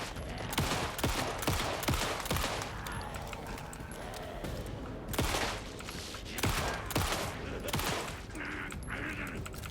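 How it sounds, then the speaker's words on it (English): Rapid bursts of gunfire from the survival-horror game Alan Wake 2, with repeated sharp shots, a dense fusillade and loud cracks spread across the stretch, set against a steady game ambience. "When I ask you to shoot the gun, shoot the gun."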